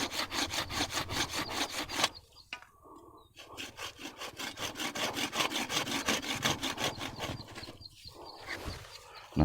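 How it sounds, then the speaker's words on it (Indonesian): A large hand saw rasps through wood while collecting a white-flowered sakura bonsai, in steady back-and-forth strokes, close and loud, pausing briefly before resuming its rhythmic cutting. "perlu gergaji agak besar ini"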